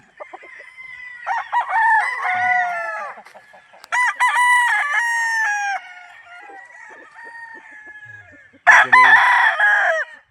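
Gamefowl bull stags crow on a farm in Tagaytay City, loud and close, with several long calls following one another and some clucking between them.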